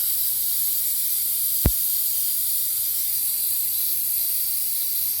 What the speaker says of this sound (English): Now we're venting the vapor. And loosen it and let it vent until you feel the can get really cold.